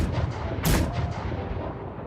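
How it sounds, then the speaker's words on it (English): A cannon shot in the Hunger Games Simulator video game lands as a single deep boom with a sharp burst, standing out over a constant rumbling background. "4 cannon shots can be heard in the distance."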